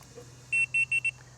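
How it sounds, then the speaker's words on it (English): Latch It keyless RV door lock giving four short, evenly spaced electronic beeps as it locks, close and clear over a faint steady hum. "people didn't really like that beep that you get all the time"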